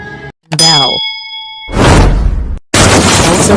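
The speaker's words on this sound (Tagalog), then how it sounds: "Bell." A bell rings out with a bright, sustained metallic tone that fades, followed by two bursts of loud broadband noise separated by brief silence.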